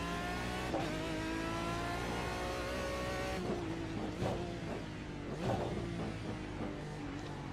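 An Aston Martin DBR9 GT1 race car engine in the racing game iRacing drones at high revs with steady tonal whine, shifting pitch as it accelerates, with a few sharp gear-change bursts.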